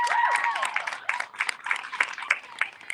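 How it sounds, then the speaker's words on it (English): Audience applause at an open mic poetry event on a patio, a dense burst of clapping that starts full and thins into scattered claps with some voices over it. "Give one more round of applause to Helen Leah."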